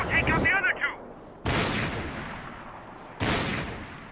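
Gunfire in the video game Max Payne 3: two sharp, loud shots with long reverberant decays, spaced about two seconds apart, following a brief burst of garbled game voice at the start.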